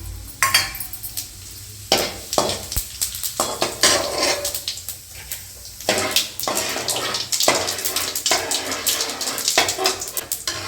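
Cumin seeds and cinnamon sticks crackle and sizzle in hot oil in a pan, a steady frying hiss broken by stirring clatter and scraping of a utensil against the pot, close and fairly loud.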